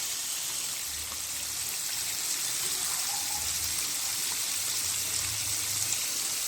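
Chicken coated in Kentucky-style flour fries over high heat in hot oil, giving a steady, dense hiss and sizzle that holds evenly throughout with no talking.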